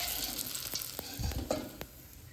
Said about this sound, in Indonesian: Ini tahunya kalau digoreng langsung ngembang